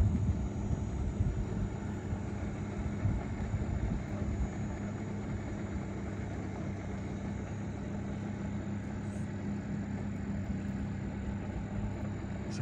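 The Simon Fletcher runabout Naiad cruises on Elm Bay in Lake Champlain, Vermont, its engine giving a smooth, steady, continuous drone with no voices.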